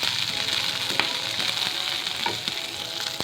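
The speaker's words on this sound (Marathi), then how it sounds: "हे कंटिन्यूअस असे दाणे जे आहेत ते चांगले हलवत राहावेत आणि दाणे चांगले हे भाजून घ्यावेत मकेचे" Corn kernels roast in a pan over a low-medium flame with a constant hiss and sizzle, as ongoing stirring adds light scrapes and small pops.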